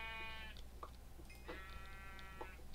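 Two sheep bleats from Minecraft, each a clear wavering baa with a pause between them, heard alone over faint game background with a few small clicks.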